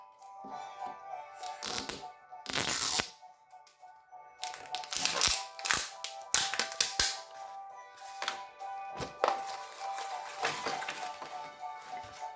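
A Mini Brands Disney Series 3 plastic capsule ball is twisted and cracked open, with sharp plastic clicks and snaps, crinkling wrapper rustles and handling, close up with no one talking.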